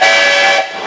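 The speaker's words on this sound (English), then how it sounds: "Give us a tune on the whistle, Les." A loud, steady steam whistle on a steam traction engine at a threshing event blows a single sustained tone, then cuts off abruptly, leaving a quieter hiss.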